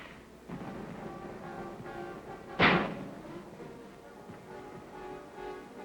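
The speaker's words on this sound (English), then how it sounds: "the mortars lend their explosive voice to the artillery pounding" A single sharp, loud explosive crack from Korean War mortar and artillery fire in 1951 stands out midway, followed by faint rumbling pounding in the distance.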